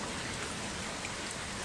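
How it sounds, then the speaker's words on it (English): A stream runs after a marble-sized hailstorm, a steady rushing wash of water that sounds close and continuous with no pauses. "That is the stream running"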